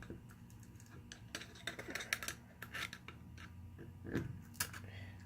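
A Spartan Locker being pried apart with a screwdriver, giving scattered sharp plastic clicks, scrapes and creaks at close range, with a heavier clunk near the middle and no talk.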